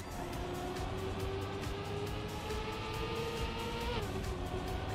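Race car in the Trackmania video game braking and drifting, a steady loud engine drone with a pitch that falls near the end as it slows, no talk heard.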